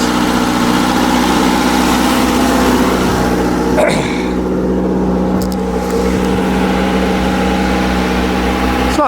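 A muffled Toyota 3TC engine idles steadily in a 1978 Clarke 763 skid steer, a close, even, moderately loud rumble with a few faint clicks and clanks over it.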